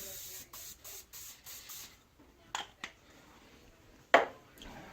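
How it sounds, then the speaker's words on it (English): Several short bursts of cooking spray hiss in quick succession, followed by a few more isolated sprays and a light clatter, close by. "lightly coat each side and bottom with cooking spray"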